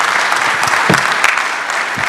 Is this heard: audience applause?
yes